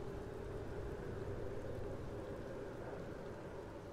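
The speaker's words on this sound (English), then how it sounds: "It's raining?" Steady rain falling in the video game Starfield, a constant broadband hiss with a low rumbling bed that holds at an even level for the whole stretch, with no voices over it.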